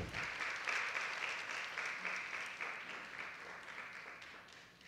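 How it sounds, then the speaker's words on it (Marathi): Audience applause at a Women's Day stage event, a steady wash of clapping from a crowd that holds for several seconds and slowly fades. "जोरदार टाळ्या होऊन जाऊ दे एकदा."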